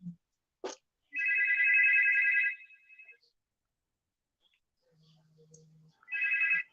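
A phone rings with an electronic trill, one long burst then a second starting after a pause, in an otherwise quiet room.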